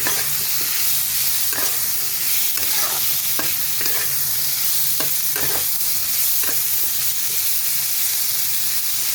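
Kohlrabi and shrimp stir-fried with turmeric in a pan, a steady close hiss and sizzle broken by irregular scraping and clinking of the spatula stirring throughout, with no voices.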